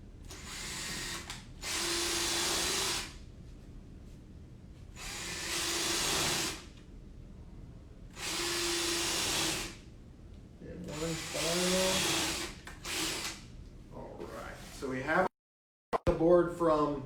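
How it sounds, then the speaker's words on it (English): Cordless Ryobi drill driver pre-drilling about five holes in a wooden board, heard as four separate high whirring bursts of roughly two seconds each with pauses between, followed by close talk and handling noise. "we're just going to put about 5 holes here pre-drilling"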